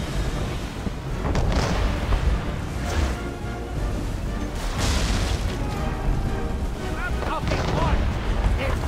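Cannon fire in Assassin's Creed III: a dense, continuous roar of heavy booms and rumbling blasts sustained at a steady, loud level throughout, with no pauses.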